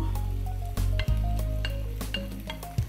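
Browned beef fries in a pot with onion and lardons for boeuf bourguignon, a loud close sizzle broken by sharp clinks and scrapes of a utensil against the pot.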